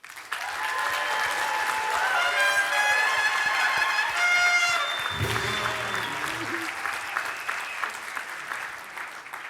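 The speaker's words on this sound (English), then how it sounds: "Let's give another round of applause for the 2024 award winners." Sustained applause from an awards-gala audience for the 2024 infrastructure award winners, steady and full throughout, with brief musical tones rising over the clapping partway through.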